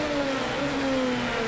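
A fantasy race car in Project CARS 2 sits against its rev limiter, a steady, loud, buzzing engine drone with a high whine that holds flat and sags slightly, with no other sound around it.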